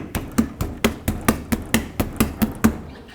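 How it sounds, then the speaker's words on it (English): A rubber mallet strikes the back side of a 1997-2003 Ford F-150 front wheel hub in about a dozen evenly spaced, close, loud thuds with no talk. "use a rubber mallet and hit it from the back side"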